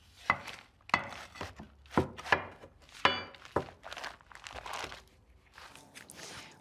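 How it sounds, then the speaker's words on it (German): Plastic clay for glazed roof tiles is cut into shape with a series of about ten dull, close chopping thuds in an uneven rhythm, with no talk. "Wir haben hier den plastischen Ton. Der wird zunächst mal in Form geschnitten."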